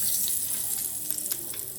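Hot asafoetida tempering being poured slowly over yogurt: a soft, steady hiss and sizzle with faint bubbling across a short stretch, fairly quiet and without talk.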